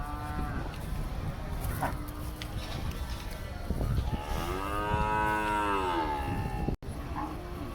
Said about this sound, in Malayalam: പശുക്കളുണ്ട് ഇവിടെ